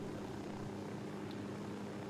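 A helicopter hovers in a military video game, its rotor and engine giving a steady, even drone that holds level throughout with no speech.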